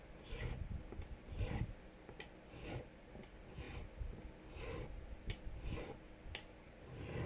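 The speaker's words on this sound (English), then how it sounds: "I will go over it again with the crowning file just to make sure it's nice and crowned." Rasping strokes of a crowning file on guitar frets repeat close by in a steady back-and-forth rhythm, each pass a gritty scrape, with no voices.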